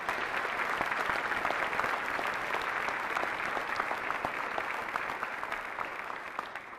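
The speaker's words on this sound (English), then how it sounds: "Let's give our seniors a round of applause for the great things that they've done." Sustained audience applause at a high school senior recognition night, dense steady clapping from a large crowd that fades slightly toward the end.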